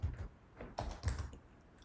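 A few soft, close keystrokes on a computer keyboard tap out in a short, irregular burst.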